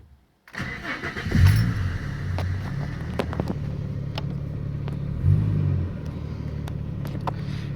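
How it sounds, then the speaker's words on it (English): Ford ED Falcon with a turbo build runs steadily with a low mid-frequency drone, and the wastegate vents straight out the side with no piping, giving two louder surges around the idle. "you can definitely hear when the wastegate opens and just vents straight out the side of the wastegate"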